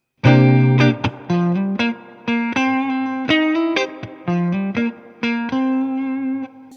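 An electric guitar with an overdriven, effected tone plays a bluesy riff of sharp, repeated phrases with brief pauses, loud and close, no voices.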